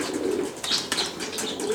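Arab tumbler pigeons on their third day of flying coo nearby, with brief bursts of flapping wings between the calls and no voices.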